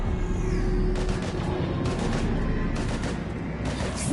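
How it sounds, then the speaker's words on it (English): Heavy combat gunfire in the video game Mass Effect 3, with rapid bursts of automatic shots repeating in clusters over a constant rumbling battle background. "We're taking heavy fire."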